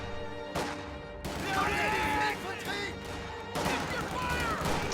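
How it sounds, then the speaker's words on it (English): A rifle grenade detonating in a World War-era strategy battle game amid riflemen, pioneers and grenadiers: several heavy booming blasts spread over a few seconds, loud and close over rumbling battlefield ambience, with no voices. "Oh, devastating rifle grenade."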